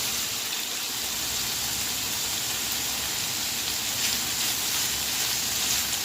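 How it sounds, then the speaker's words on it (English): Red onions tipped into a pan of vegetables sauteing for an Easter dinner, giving a steady, dense hiss of frying that crackles evenly throughout, with no talking and no breaks. "They're sauteing up good. And now I'm going to add my red onions to this."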